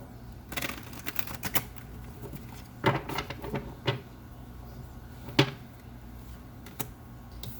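Soft riffling and tapping of tarot cards being shuffled, in short irregular bursts with a few sharper snaps, close and fairly quiet.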